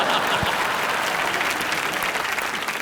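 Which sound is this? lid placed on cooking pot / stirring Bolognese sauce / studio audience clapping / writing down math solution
studio audience clapping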